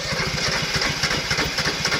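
An old Japanese two-cylinder four-wheel tractor diesel engine, a TX 1300 class machine, runs nearby with a steady low pulsing beat, revving and chugging continuously without a break.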